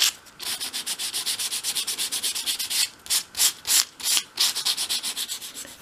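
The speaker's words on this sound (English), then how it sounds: "I'm sort of sanding the inside edge by holding the sandpaper at an angle and actually sanding it flat on the surface" Sandpaper rubs back and forth along the inside edge of a small wooden arched window piece, close and steady in quick regular strokes, with a brief pause and a few slower, heavier passes midway.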